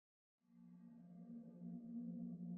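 The Sona synth preset from the Purity plugin enters after a brief silence as a sustained, soft chordal pad with a warm low tone, swelling slightly and holding steady to the end, alone without talk.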